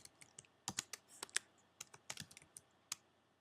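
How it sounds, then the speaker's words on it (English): Quiet, close clicking of keys on a computer keyboard as someone types in short irregular bursts, with no voices. "I can now start typing my matching list."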